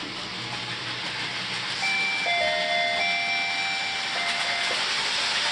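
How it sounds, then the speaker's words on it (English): A soft electronic alarm on a main line train stop control system sounds as steady high beeping tones for a few seconds over a constant background hiss and hum. "Soft alarm starts up for only 3 seconds just to indicate that the routine's running"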